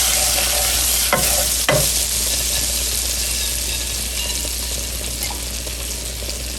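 Butter sizzling in a pan with garlic, salt, pepper and red pepper flakes, a bright steady frying hiss with a couple of sharp stirring scrapes early on, gradually softening toward the end.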